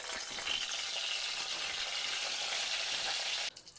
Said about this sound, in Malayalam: ചൂടായി തന്നെ വെളിച്ചെണ്ണയിൽ കുറച്ച് കറിവേപ്പില ഇട്ട് കൊടുക്കുക